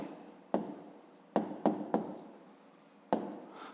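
A pen writes an answer on paper in a fifth-grade maths exercise, giving a few short, distinct scratching strokes with pauses between them, close and quiet, with no talking.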